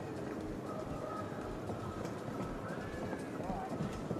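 Hooves clip-clop at a fast trot in a four-in-hand carriage driving cones competition, a faint, steady rhythm under constant commentary talk and crowd noise.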